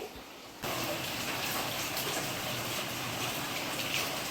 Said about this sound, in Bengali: এরকম ওয়েদার এত বৃষ্টি পড়ছে